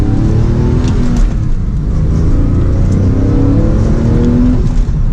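Porsche 911 Carrera with a manual gearbox revving hard while driving, a loud, steady engine drone rising in pitch from inside the car, with no talk.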